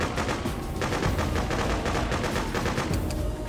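Rapid automatic gunfire rattles loudly and continuously in a retro NES-style shooter game, with dense bursts of shots filling the whole moment, no voices.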